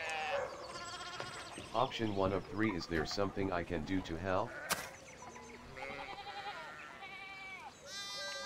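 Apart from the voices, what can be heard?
sheep bleating in the video game Pentiment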